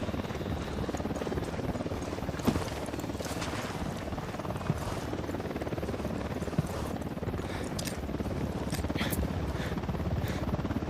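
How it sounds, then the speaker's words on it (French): Helicopter rotor noise in the video game Ghost Recon Wildlands, a steady broadband thrum holding loud and constant throughout, with game sounds and faint voices mixed over it. "Un hélico, tous à terre!"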